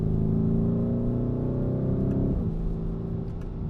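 2023 Lamborghini Urus S engine while driving, a strong harmonic drone climbing in pitch and then dropping sharply at a gear shift around the middle before settling into a lower hum, close and steady.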